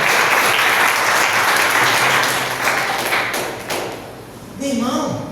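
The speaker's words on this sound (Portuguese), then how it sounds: "Vamos aplaudir o Senhor." A church congregation at a Sunday service claps loudly, a dense burst that gradually thins and fades; near the end a voice begins speaking over the dying applause.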